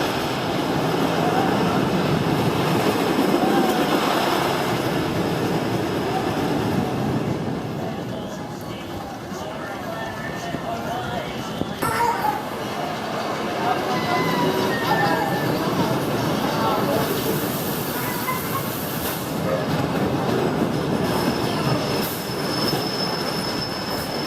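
A Gravity Group wooden roller coaster train at Sesame Place in Langhorne, PA rolls and rattles along its track with squealing wheels and a steady roar, while riders' voices and talk run over it throughout.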